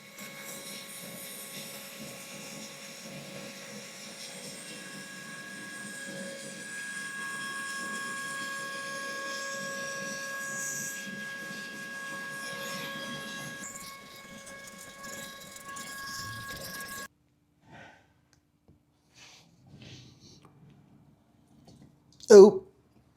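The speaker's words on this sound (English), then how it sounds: "So I got this little tiny baby vacuum with this little tiny baby attachment on it with a brush." A small vacuum with a little brush attachment cleans the crust from a small block Chevy engine block, a steady thin whine with tonal hum running for about seventeen seconds, then stopping abruptly, followed by faint sounds and a brief loud knock.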